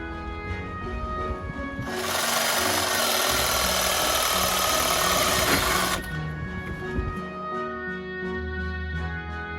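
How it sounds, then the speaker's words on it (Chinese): An electric saw cuts through a thick fig tree branch, its loud, steady buzzing rasp lasting about four seconds before stopping abruptly, with a low background hum before and after. "另外这一棵由于枝条比较粗，为了快速截断，我们使用了电锯。"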